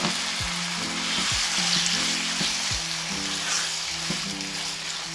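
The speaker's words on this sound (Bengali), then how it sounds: "এখন আমি চিকেনটা ভেজে নেব" Steady crackling sizzle of chicken frying in hot oil, with a few metallic clunks and scrapes of stirring in the pan, close up and fairly loud.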